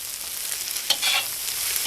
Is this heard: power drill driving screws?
no